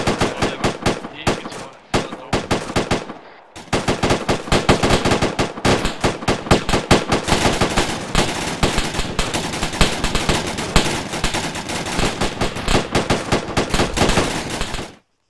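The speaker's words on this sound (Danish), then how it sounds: "Skud kommer. Skud kommer." Sustained bursts of automatic gunfire in an Arma 3 military operation, rapid dense rattling volleys after a brief pause near the start, loud and continuous with overlapping shots and no talk.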